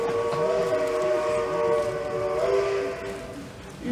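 A train whistle sound effect in a stage play plays as a steady, sustained multi-tone blast that holds for several seconds before easing off, loud and alone.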